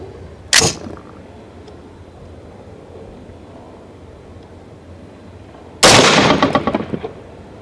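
Two loud gunshots from a .450 Bushmaster rifle firing Lil' Gun powder loads with Hornady bullets at an outdoor range, a single sharp crack followed about five seconds later by a second blast with a longer rolling echo.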